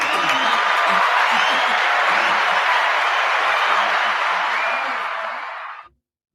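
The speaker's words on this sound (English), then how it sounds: "Let's give a round of applause for that." A crowd on a live show applauds special guests, a loud, dense wash of clapping and cheering that holds steady before fading quickly to silence near the end, with a voice faintly underneath.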